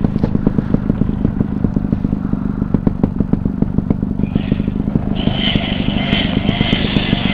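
A motorcycle engine chugs steadily nearby, with rapid rhythmic pulsing and clattering as the bike moves over a rough off-road trail; a higher whine joins partway through.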